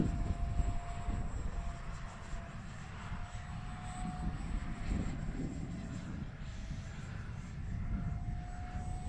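An Arrows Viper 50mm electric ducted fan RC jet flies outdoors in wind, a faint, steady whine over heavy gusty wind rumble throughout.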